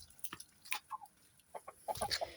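An Araucana rooster in a poultry pen clucks in short, close bursts, with a quick run of sharp clucks near the end and no one speaking.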